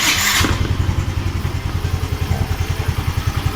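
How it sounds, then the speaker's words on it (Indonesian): A Yamaha Mio M3 motorcycle engine starts with a brief burst, then settles into a steady, rhythmic idle thump with a slight hiss, close by. "jadi suaranya agak mendesis sedikit, kayak kalau motor karbu itu dibuka depannya"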